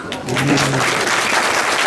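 Audience applause at a community gathering, a dense continuous wash of many hands clapping, loud and near, filling the whole stretch with a few brief voice traces underneath.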